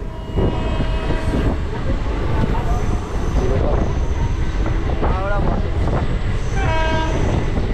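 A Bardhaman–Howrah chord line local train arrives at Baruipara station with a loud continuous rumble of wheels and carriages and a couple of horn blasts.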